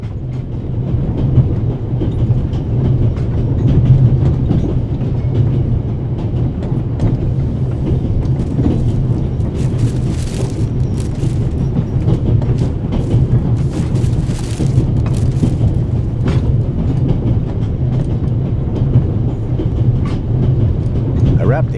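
A train rolls along its rails with a continuous low rumble and rhythmic clatter, steady and loud throughout, as heard from aboard.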